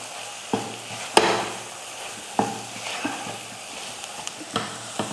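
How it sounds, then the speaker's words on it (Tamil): Coriander powder being stirred into brinjal frying in a pan, with a spoon scraping and clacking in distinct strokes over a soft steady sizzle, close and clear with no talking. "இப்போ இதை நல்லா அந்த காய் கூட கலந்து விட்டுறலாம்."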